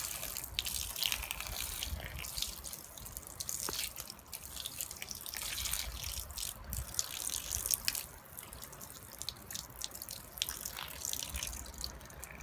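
Water is dumped over an AR-15 rifle, pouring and splashing in a steady trickling stream, with drips and gushes, fairly faint and close by.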